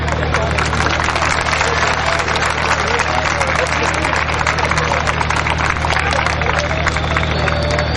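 Audience applause at a school farewell party prize giving: dense, steady clapping from a crowd fills the whole stretch, loud and continuous, with voices and general hall noise mixed in.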